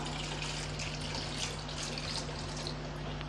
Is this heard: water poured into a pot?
yes